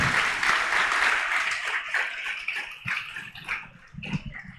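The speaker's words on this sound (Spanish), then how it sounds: "Dele un fuerte aplauso al Señor. Bien fuerte." A church congregation at MCI Barranquilla breaks into loud applause that swells at first, then thins and fades, leaving scattered claps and a few voices.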